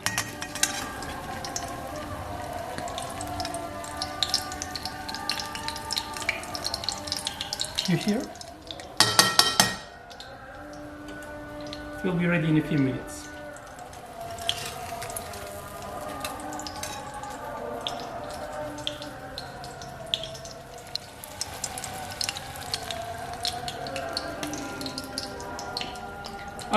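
Cheese pie sizzling in hot olive oil in a home kitchen, a steady soft frying hiss under clattering pans and utensils, with someone speaking over it.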